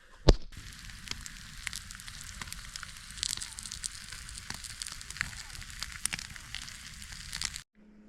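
A campfire burns steadily at a campsite while a parma cooks over it, a continuous crackle and sizzle with small pops throughout and one sharp snap near the start, close and moderately loud before cutting out at the end.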